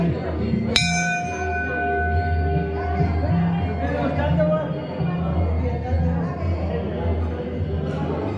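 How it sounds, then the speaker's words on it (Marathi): A temple bell at a Datta temple is struck once, ringing out clearly with a long sustained tone that slowly fades, while a crowd murmurs and chatters throughout. "मला घंटा वाजवायला आवडते।"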